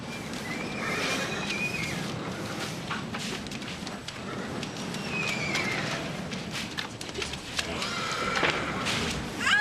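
Several horses neigh and whinny repeatedly amid a busy commotion, with hoof clatter and thumps in the background.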